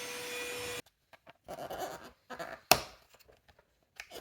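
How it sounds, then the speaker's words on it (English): A Caseeto handheld cordless 12V vacuum runs with a steady motor whine for under a second, then cuts out, followed by scattered rubbing and brushing noises as the head works over a dog bed, with one sharp knock. "Here is another one of the vacuum heads in action on my dog's bed."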